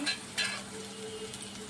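Ginger-garlic paste frying in oil in a pan for a okra (bendakaya) curry, with a low steady sizzle and two brief scraping stirs near the start; quiet and close, no talking.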